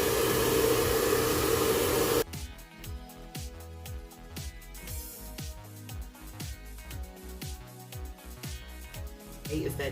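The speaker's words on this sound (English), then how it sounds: "So now I'm gonna go in with my blow dryer and I'm gonna blow dry my roots." A handheld blow dryer runs steadily as a strong broadband whoosh, drying the roots of faux locs at close range, then cuts out after about two seconds, leaving quieter clattering and handling sounds.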